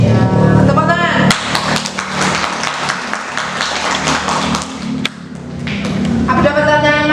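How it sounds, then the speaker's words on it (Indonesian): Students clap in a classroom after a group presentation on the clean water crisis, a dense run of applause lasting several seconds between spoken remarks. "Ya, tepuk tangan."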